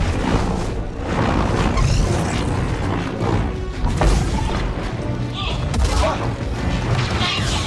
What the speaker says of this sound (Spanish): ¡Cuidado con el radio de explosión!